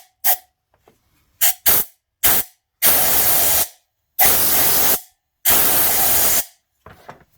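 Compressed air blasts into the spark plug well of a Polaris Ranger 570, first a few short sharp puffs, then three long loud hissing bursts separated by brief silences.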